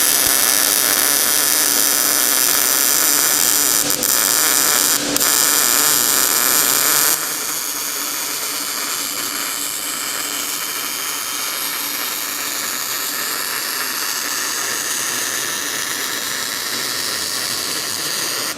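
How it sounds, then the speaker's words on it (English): A Warcking Mig200DV MIG welder runs a downhill bead in a loud, continuous crackling hiss that goes on steadily, easing slightly partway through and then holding at a constant buzz. "I'm gonna go ahead and try to run a downhill bead without busting through the back, and let's see how good it welds"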